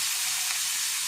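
Onion frying in a pan for a crispy okra stir-fry, a steady close sizzle with a bright hiss that stays even throughout, with no voices.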